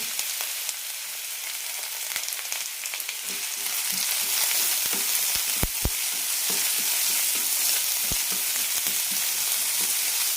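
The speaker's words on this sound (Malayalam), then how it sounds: "സവാള ചെറുതായി ഒന്ന് ഗോൾഡനായി കിട്ടണം അതുവരെ വഴറ്റിയെടുക്കാം" Onion, garlic, ginger and curry leaves sauté in hot oil, a constant bright crackling sizzle that grows fuller partway through, punctuated by sharp spoon knocks and scraping stirs against the pan.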